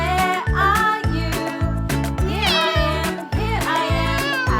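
Repeated loud, close cat meows rise and fall over a steady thumping bass beat and music in a children's song about farm animals.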